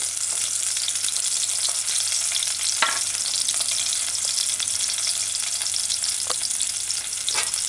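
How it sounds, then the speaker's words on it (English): Hot pepper cooking in coconut milk in a pan gives a steady, dense sizzle and bubbling throughout, with a few faint stirring clicks and no voices. "Crack on the pepper, hot. Just gonna add it to the coconut milk."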